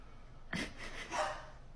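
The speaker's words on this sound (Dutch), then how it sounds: "Deze kat kan blaffen." A cat makes a single short, muffled bark-like yelp like a dog, followed by a softer huffing sound, close up, with no talking.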